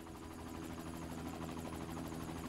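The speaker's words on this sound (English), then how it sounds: "Helicopters flying overhead." Helicopters flying overhead in Secret World Legends, a faint, steady low rotor drone with a continuous rhythmic thrum and no speech.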